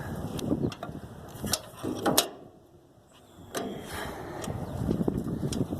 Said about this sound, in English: so you don't have to watch me struggle to tighten up a stupid bolt